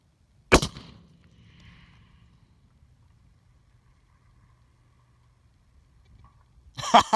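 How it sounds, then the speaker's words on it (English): A single sharp, loud report from a Savage 110 rifle chambered in 300 Winchester Magnum cracks early on, its echo fading into quiet outdoor air before a brief rustle near the end. "after you let the shot go, take your earplugs out"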